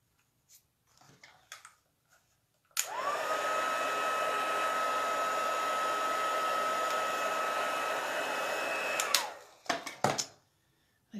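A heat embossing tool blows steadily for about six seconds with a whooshing fan hiss and a constant whine, set between brief handling clicks and rustles.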